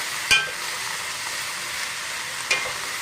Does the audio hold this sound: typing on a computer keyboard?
no